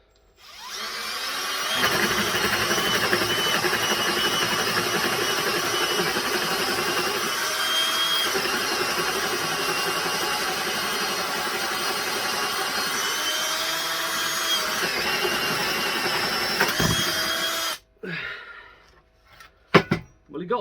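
A Pro Fit holesaw on a drill bores through material in one long, loud, steady grinding whine lasting most of the clip. It stops abruptly and is followed by a few sharp clatters and knocks.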